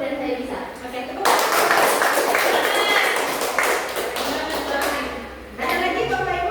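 A room of teachers at a school training session breaks into group clapping for about four seconds: a loud, dense patter of many hands, with speech before and after it.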